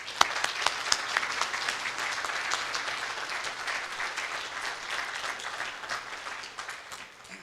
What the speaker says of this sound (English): Will you give a nice round of applause to Mark Rayfield?